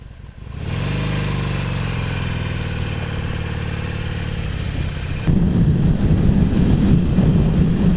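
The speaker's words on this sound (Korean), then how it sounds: "시동을 걸고 정차 중에는 굉장히 아이들링이" A Harley-Davidson Roadster motorcycle engine idles steadily close by, a low continuous rumble that grows rougher and louder toward the end.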